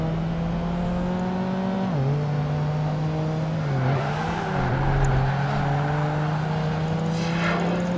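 Race cars from the video game Project Gotham Racing 2, including an RX-7 rival, drone with a sustained engine whine that dips briefly on gear shifts or corners before settling back to a steady high pitch.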